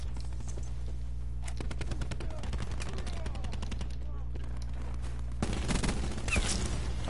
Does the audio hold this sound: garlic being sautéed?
no